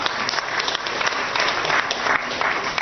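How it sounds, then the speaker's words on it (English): An audience at an award ceremony for the Chief Minister of Odisha claps steadily in dense, sustained applause, loud and close, with no speech over it. "big round of applause"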